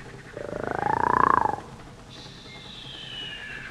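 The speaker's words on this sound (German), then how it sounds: "Ja, das ist geschnarcht." A man snoring loudly in a sleeper car: one long, rising, rasping snore that swells and cuts off, followed by a faint whistling tone.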